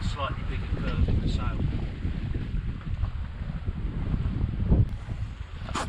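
A sailboat glides under sail with engines off in a light, dying breeze, with wind buffeting the microphone, soft water rushing along the hull and occasional faint creaks, steady and unbroken throughout.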